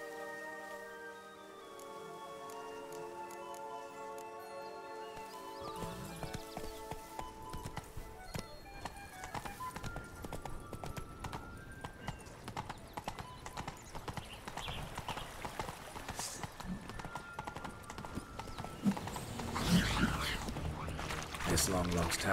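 Horse hooves clop at a steady gallop in The Witcher 3, beginning after several seconds of musical tones and continuing as a fast, even beat that grows louder, with a voice briefly heard.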